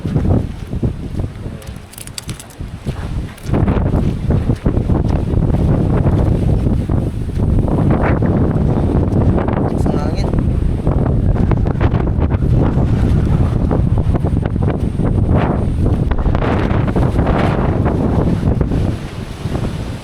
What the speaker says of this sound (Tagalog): sumisipol yung hangin